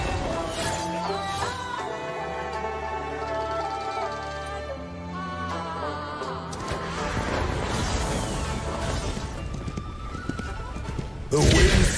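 Video game horses whinny loudly with long, shrill, wavering neighs, then hooves clatter in a fast galloping rhythm under a rising whoosh, ending in a heavy crash-like impact.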